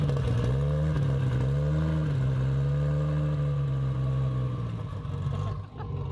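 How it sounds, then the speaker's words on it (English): A Ford Barra inline-six engine swapped into a Foxbody car idles close by, a loud, steady, deep rumbling drone with a rich harmonic hum and a slight dip near the end. "that's that sound of that inline 6 Barra."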